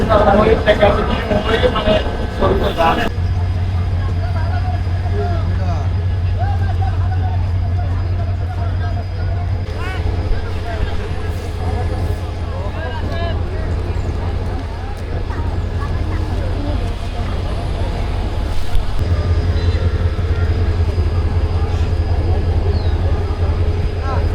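A Bangladeshi passenger train on the line to Burimari, with a constant low rumble of the carriage and a steady drone that drops out and returns, under a background of passenger chatter.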